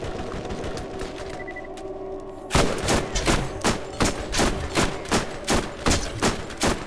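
Video game gunfire: a steady run of evenly spaced loud shots after a quieter stretch of background game noise, punchy and close, with no talking over it.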